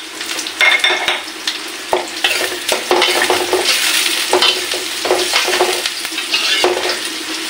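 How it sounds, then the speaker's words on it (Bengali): Chopped green chilies are stirred into frying onions in a pan, with constant crackling sizzle and repeated scraping and clinking strokes of a spoon against the pan, up close and busy throughout. "পেঁয়াজ কুচির পরে এবার দেখছেন দিচ্ছি লঙ্কাগুলো, কেটে রেখেছিলাম, লঙ্কাগুলোকে দিয়ে দিলাম।"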